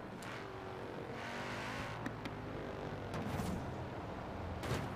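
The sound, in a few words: AI car driving by in video game Forza Horizon 4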